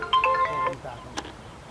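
A phone ringtone plays a short electronic melody, fairly faint, then stops, followed by a brief click and quiet room noise.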